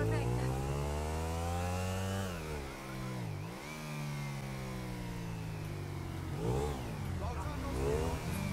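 A big, heavy motorcycle engine in the video game GTA 5 revs up and down repeatedly, its pitch rising and falling in smooth sweeps, loud and close, with someone talking over it.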